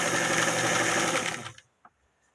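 Sewing machine stitching a raglan blouse seam, a fast steady mechanical whir for about a second and a half, then stopping abruptly, followed by a couple of faint clicks.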